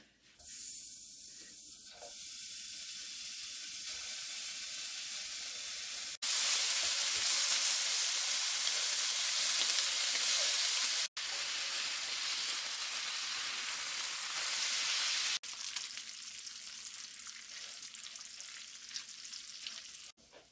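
Bacon sizzling in a hot pan, a loud steady hiss and crackle that surges and drops in intensity over about twenty seconds, with no one talking.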